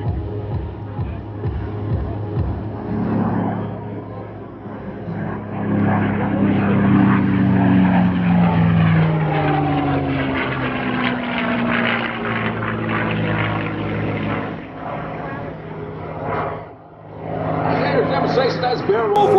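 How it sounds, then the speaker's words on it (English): Propeller airplane powered by a Packard-built Rolls-Royce Merlin engine flying at an airshow, a loud continuous engine drone with a shifting pitch that swells and fades as it passes, steady throughout with a brief dip near the end. "a top overhaul on that Packard-built Rolls-Royce Merlin engine."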